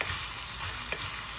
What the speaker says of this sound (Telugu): ఒకసారి శుభ్రంగా కలుపుదాం.